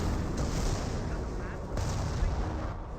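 British artillery bombarding US snipers in Company of Heroes 1, a dense, continuous rumbling barrage of booming shellfire that fills the whole moment, with a commentator's voice running underneath.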